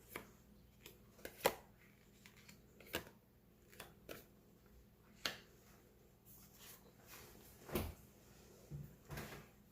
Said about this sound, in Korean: 카드 한번 펼쳐볼게요